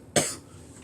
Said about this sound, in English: Now with this coughing.